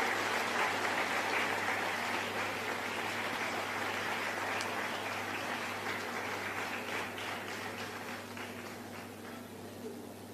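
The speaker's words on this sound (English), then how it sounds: "A loud round of applause for Ms." A graduation ceremony audience claps in a steady, dense round of applause that slowly fades over several seconds, with faint voices underneath.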